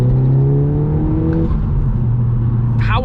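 A 300bhp Audi S3 accelerating on a night drive, heard from inside as a loud steady engine drone with rising harmonic tones and a gear change midway, road roar underneath and no talking.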